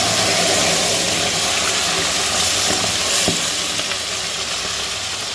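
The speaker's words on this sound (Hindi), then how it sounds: "अभी हम इसमें ऑयल डालेंगे" Hot oil poured over Balochi mutton namkeen rosh, setting off a loud, close, continuous sizzle that holds steady for several seconds with one small clink and fades slightly toward the end, with no voices.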